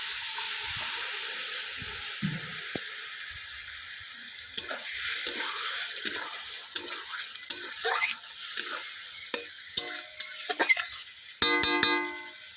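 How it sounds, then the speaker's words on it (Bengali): Mutton curry sizzles softly in a pan as it is stirred after a splash of water, quiet hissing and intermittent scraping knocks building toward the end, closing with a few brief electronic beeps. "কিছুক্ষণ আমি নেড়ে নিয়েছি আর দিচ্ছি অল্প একটু জল যাতে না তলাতে লেগে যায়"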